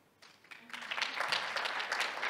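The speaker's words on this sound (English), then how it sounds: "Applause for him." Audience applause at an international congress on world civilizations, a broad crackling wash of clapping that starts quiet and swells fuller after the first second, continuing steadily to the end.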